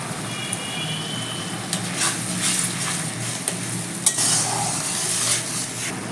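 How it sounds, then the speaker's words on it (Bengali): Turmeric, Kashmiri chili and cumin powders fry together in a pan with a steady close sizzle, broken by several sharp spatula knocks and scrapes. No one talks. "সমস্ত মশলা আমি একসাথে এবার কষিয়ে নেব"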